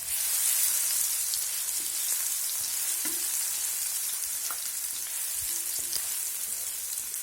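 Garlic paste frying with onions in a pan for a spinach kadhi, a steady dense sizzle that stays even throughout with faint stirring clicks and no voices.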